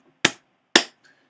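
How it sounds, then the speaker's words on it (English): Two sharp hand claps about half a second apart, close and crisp in a quiet room, each dying away quickly. "If I clap,"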